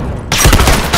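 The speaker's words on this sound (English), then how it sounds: "Rifle!" Rifle fire in a multiplayer match of The Last of Us Factions erupts suddenly after a quiet moment, a loud, close burst of rapid shots.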